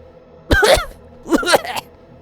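Two rough bursts of coughing and throat clearing from someone choking on shortbread butter cookies, each lasting about a quarter second and close to the microphone, with strained vocal tone.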